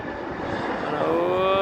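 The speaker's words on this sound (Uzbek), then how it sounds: "Mana yana bitta samolyot kelyapti." A fixed-wing airliner comes in to land at a large European airport, its engine roar loud and close and swelling toward the end, with a person talking over it.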